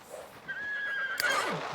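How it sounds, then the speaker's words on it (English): A wild horse in The Sims 3 gives a short whinny with a rising, wavering neigh under faint background noise. "Horse! Watch a wild horse."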